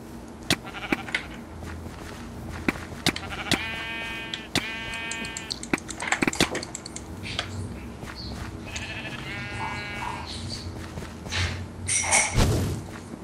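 Sheep bleat in a video game, two clear drawn-out bleats close together near the middle and another pair a few seconds later, over steady game background noise with scattered thumps and a louder burst near the end.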